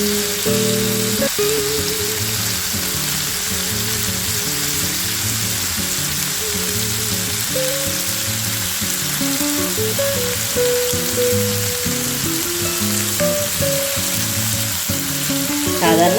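Onions sauté in a pan as a prawn roast is made, giving a loud, steady sizzle of frying close up that lasts throughout. A low melodic hum plays underneath, and no one speaks.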